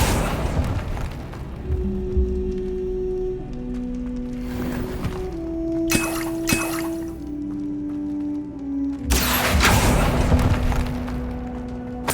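A Confringo spell explosion in the Hogwarts Legacy video game sounds as a burst of fiery crackling and booming bursts over a steady wash of game music and ambient noise.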